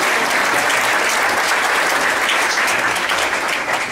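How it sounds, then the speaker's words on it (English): Sustained audience applause for a man named Bill at the close of an evening event: dense, steady clapping from a large crowd, loud and even throughout with no voices on top. "Big round of applause for Bill, huh?"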